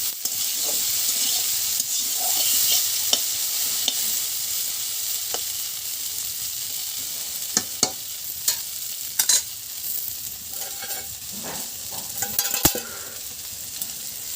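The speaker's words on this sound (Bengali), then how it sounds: "দেখুন হচ্ছে ফুলকপি আর আলু ভাজা।" Cauliflower and potatoes fry in hot oil, a steady sizzling hiss heard up close, broken by scattered clinks and scraping stirs toward the end.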